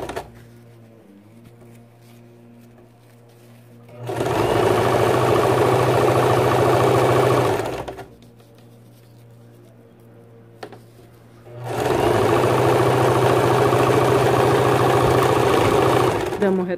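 A sewing machine runs a straight stitch on a bag strap in two long, loud, steady bursts separated by quieter pauses with a low hum, close up.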